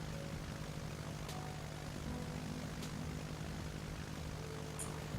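A propeller airplane engine in a Roblox game drones steadily and continuously at an even level, with no talking over it.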